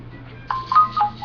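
A mobile phone rings nearby during a cigar tasting, its short electronic tone pulses repeating twice in about a second over a low steady room hum.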